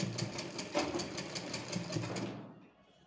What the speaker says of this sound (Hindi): तो यहाँ से हम स्टिचिंग स्टार्ट करेंगे, ये देखिए।